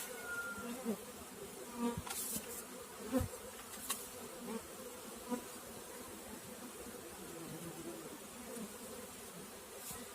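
Honeybees buzz faintly and steadily in a hive box on 145 mm frames as it is smoked during winter preparation, with occasional louder passes, knocks and handling thumps.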